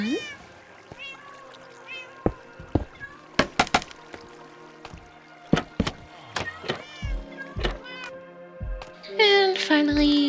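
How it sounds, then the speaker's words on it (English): A Minecraft cat meows a few times amid blocky game sound effects: sharp thunks, clicks and chimes, with a brighter burst of tones near the end. Moderately loud and close, with no speech. "Say goodbye to the kitty cat."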